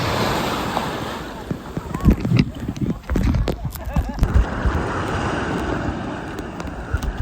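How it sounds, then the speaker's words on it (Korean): Strong ocean waves surge and crash continuously at Baishawan Beach in Kenting, Taiwan, a loud broadband roar with wind buffeting the microphone and voices speaking intermittently over the surf. "여기 파도 진짜 세요"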